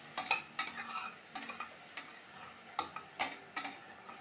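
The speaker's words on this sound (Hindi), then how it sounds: "प्याज को गलने देते हैं" Onions stir-fried in a pan for a jackfruit curry: a series of sharp, close scraping strokes of a spoon against the pan at an irregular rhythm, with a light sizzle underneath and no talking.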